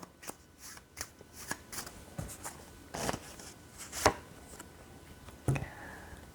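Tarot cards being shuffled and drawn at close range, with a series of soft papery riffles, slaps and snaps spaced irregularly at a low, quiet level and no talking.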